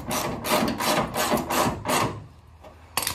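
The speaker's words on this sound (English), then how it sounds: "I'm going to get this bolt snugged up." A ratchet snugs up a fender bolt on a 1967 Firebird with a series of rhythmic, close rasping strokes, about five in a row, followed by a short pause and a final click.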